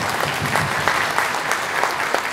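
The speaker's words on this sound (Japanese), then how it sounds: "もう一度拍手お願いします。" Loud, sustained applause from a large audience after a Hiroshima Prefectural Police band concert, dense and even for the whole stretch with no talking.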